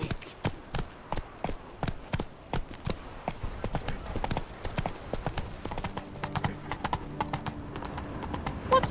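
Roach, the horse in The Witcher 3, gallops with rapid, even clip-clop hoofbeats at close range, then slows to a looser, softer gait toward the end.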